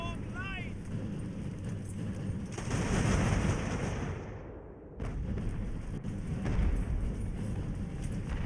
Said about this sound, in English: Let's get the remaining cannons on them.